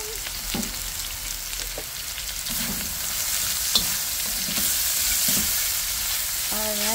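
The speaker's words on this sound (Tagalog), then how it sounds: "Mainit yung ating pan guys. So lalagay na natin ang ating napakaraming carrots." Carrots stir-frying in a hot pan for pancit guisado, a steady loud sizzle with scraping stir strokes throughout, no talking.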